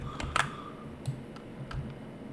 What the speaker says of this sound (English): So I'm clicking and then I'm using shift.